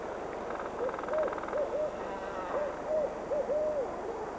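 Barred owl courtship hooting in the wild: a series of soft, rising-and-falling hoots in short bursts, fairly near and set over a steady hiss of background noise.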